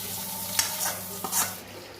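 Boiled lentil dumplings go into a pan of simmering prawn curry with ridge gourd and onion, giving two short sizzling splashes and stirring scrapes against a low bubbling background.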